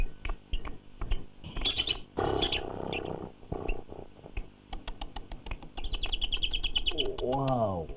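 A lovebird sings close up in bright rapid chirps and trills, with a long buzzing stretch and fast repeated notes, over faint background noise.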